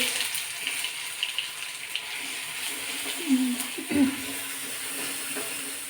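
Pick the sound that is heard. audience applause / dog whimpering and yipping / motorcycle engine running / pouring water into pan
pouring water into pan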